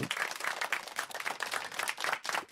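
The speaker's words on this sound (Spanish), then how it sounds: "Está muy bien, vale, un aplauso" An audience at a talk claps together in a dense, steady patter of applause, heard faintly at some distance for a couple of seconds.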